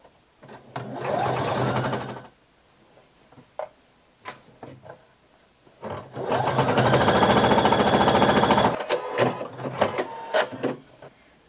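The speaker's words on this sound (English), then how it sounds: "You're going to sew all the way around, and you're going to pull in between your pins as you're sewing." A sewing machine stitching elastic onto a homemade swimsuit runs in two long bursts of rapid mechanical whirring and ticking, close and loud, separated by short pauses filled with clicks and fabric handling.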